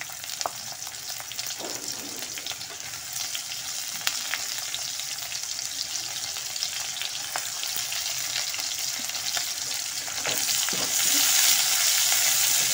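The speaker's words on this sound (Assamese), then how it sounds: "পিঁয়াজখিনি দি ৰঙাকৈ ভাজি ল'ম।" Onion frying in a pan over ginger for a potato, pea and paneer curry: a constant sizzle with occasional spatula scrapes, growing slightly louder toward the end, with no voices.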